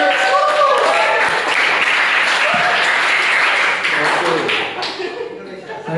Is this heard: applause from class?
yes